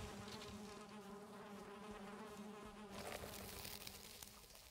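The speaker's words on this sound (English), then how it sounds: "I got 5 bees" Bees buzzing in the video game Valheim, a steady, dense insect drone that holds through the whole stretch and swells slightly near the end, close and alone with no talk.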